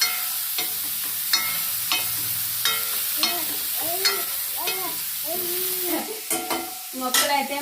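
Goat trotter curry masala stirred in a new pan, a spoon scraping and clanking against the metal in a steady rhythm over a constant frying sizzle.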